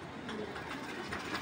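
Soft, low pigeon cooing from a pair of racing pigeons, faint against a steady background hiss, with no voices.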